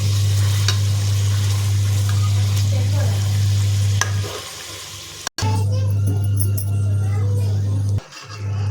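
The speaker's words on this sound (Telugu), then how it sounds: "మధ్యలో ఒకసారి చేపలు కింద మీద చేసుకుంటే రెండు వైపులా కాలుతాయి." Fish pieces frying for a fish curry, flipped partway so both sides cook, give a steady hiss of sizzling oil with stirring scrapes and a constant low hum running underneath, briefly cutting out near the middle.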